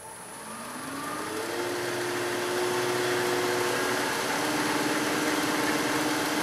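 A spindle roughing gouge shapes a burl on a wood lathe spinning about 2,000 RPM: the motor whine rises as it spins up, then a steady, close hum runs with a rough scraping texture.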